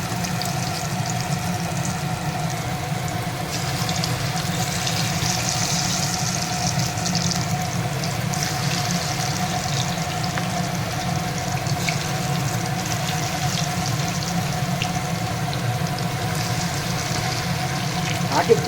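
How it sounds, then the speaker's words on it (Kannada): Cauliflower for gobi 65 frying in hot oil over a medium flame, a steady dense sizzle and bubbling hiss running unbroken from start to finish, no speech heard. "ಈಗ ಮೀಡಿಯಮ್ ಫ್ಲೇಮಲ್ಲಿ ಇಟ್ಕೊಂಡು ಇದನ್ನು ಫ್ರೈ ಮಾಡ್ಕೊತೀನಿ."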